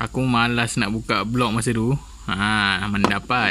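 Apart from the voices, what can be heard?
None of the usual background noises is heard.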